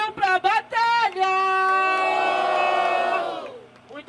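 A crowd at a rap battle cheers and shouts: short bursts of yelling swell into a long, loud, sustained roar of many voices that fades away at the end.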